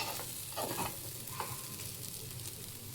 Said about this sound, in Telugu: మేమైతే ఇలా కొంచెం సాఫ్ట్గానే వేయిస్తున్నాను